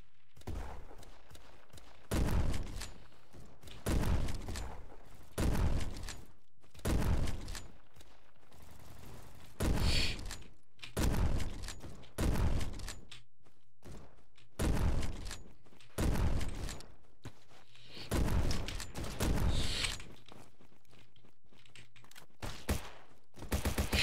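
Video game gunfire crackles in about a dozen evenly spaced bursts, each a quick fusillade of sharp shots fairly close, with quiet gaps between them.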